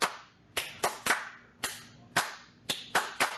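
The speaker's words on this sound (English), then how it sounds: "so can you clap that for me?" Nine sharp, close hand claps in an uneven, syncopated rhythm, with short bursts and small gaps between them. A few claps land in quick pairs, and the room is otherwise quiet.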